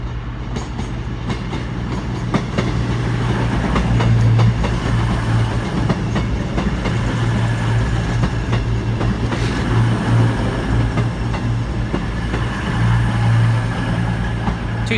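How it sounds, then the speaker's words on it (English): A Class 221 Voyager on a cross-country service to Penzance pulls into Exeter St David's station, with a loud, close diesel engine rumble and rail clatter that swell and ease throughout. "Got a cross-country service to Penzance now coming in"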